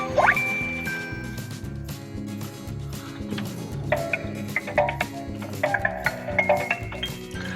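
Alternative pedestrian warning sound on a Nissan Leaf, set to the second optional tone: bright chiming notes that ring out, pause, then return as a cluster of quick tinkling pulses over a faint low hum, with no talking.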